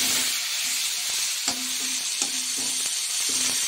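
Fish pieces frying in a wok give a steady, loud hissing sizzle, punctuated by faint repeated taps and scrapes of a spatula, with no voices.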